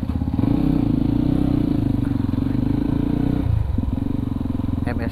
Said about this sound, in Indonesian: Oh, langsung bawa motor ke belakang.